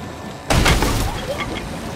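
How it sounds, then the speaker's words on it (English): A boat breaking apart in the video game Sea of Thieves: a sudden crunching crack bursts in, followed by a sustained rough crumbling rumble, close and loud, with no talking. "Bro, our boat's randomly breaking."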